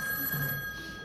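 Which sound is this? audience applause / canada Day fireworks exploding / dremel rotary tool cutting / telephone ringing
telephone ringing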